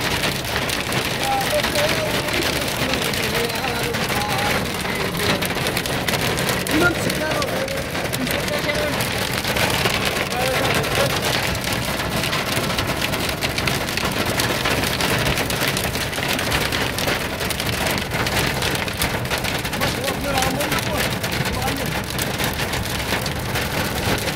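Rain and hail falling steadily, a dense continuous patter and hiss on surfaces that stays loud throughout, with voices faintly mixed in.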